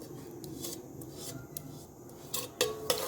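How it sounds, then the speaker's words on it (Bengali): Date palm jaggery being stirred into bottle gourd payesh off the heat, a spoon scraping and rubbing against the pot in soft repeated strokes, with a few sharper clinks near the end. "আমি কিন্তু চুলা থেকে নামিয়ে নিয়ে তারপরে মিশিয়ে দিচ্ছি।"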